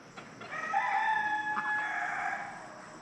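Roosters crow outdoors near a deck, one drawn-out, fairly close cock-a-doodle-doo rising and holding for about two seconds against quiet rural background.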